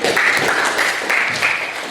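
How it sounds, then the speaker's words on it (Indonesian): A class of students in a teaching practice lesson gives a short round of applause after a reading. The clapping is brief, close and fairly loud, with no talking over it. "Tepuk tangan ya."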